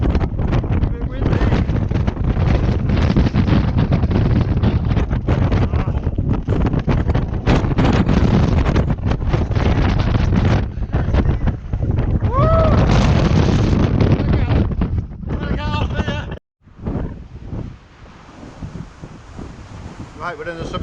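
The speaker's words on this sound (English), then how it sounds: "A bit windy." Strong, roaring wind on the summit of Moel Siabod buffets the microphone continuously, loud and harsh, with brief gusty dropouts near the end.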